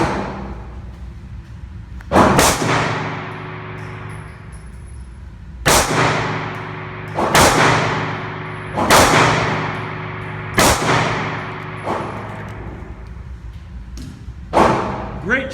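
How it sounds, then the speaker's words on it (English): Seven loud, sharp pistol shots from a SIG P365 at 7 yards ring off steel targets, fired in uneven groups with brief pauses and a bright metallic ring trailing each report. "Daniel's up with the P365. Let's give it a shot and see what we can do with it"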